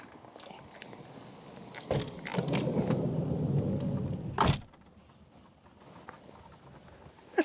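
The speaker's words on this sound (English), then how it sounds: "hail is now coming in." Hail patters on the roof of a VW T4 Autosleeper Trophy campervan in a loud, dense rattle lasting a few seconds, framed by sharp knocks, then dies down to a quieter background.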